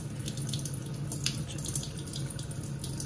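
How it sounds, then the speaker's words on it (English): Cold water pours steadily from a tap into a bowl of pancake batter, a continuous close splashing rush with no talk. "pour a little bit more cold water in there."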